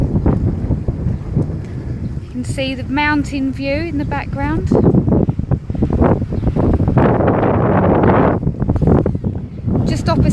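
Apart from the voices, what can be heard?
wind blowing into microphone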